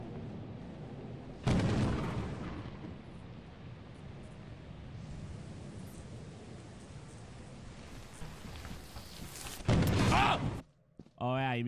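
Thunder from a lightning strike in the video game Lethal Company, a loud broadband rumble that bursts in and rolls on steadily for about eight seconds before a second sharp crack, with players talking over it.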